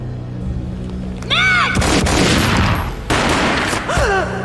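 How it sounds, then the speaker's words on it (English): Gunfire from the video game Max Payne booms in heavy, loud bursts amid swooping synthetic effects and background game sound, with several sharp shots cracking close in quick succession. "A gunshot boomed and she fell down in slow motion."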